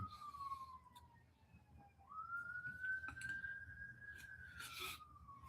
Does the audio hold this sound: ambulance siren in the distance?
yes